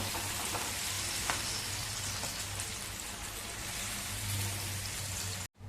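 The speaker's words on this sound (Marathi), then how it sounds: "आपण तव्यावरती वड्या घालूया अशा परतण्यासाठी" Alu vadi, rolls of colocasia leaf, shallow-fry in oil on a griddle, giving a steady, soft crackling sizzle close by, even throughout, with no talk.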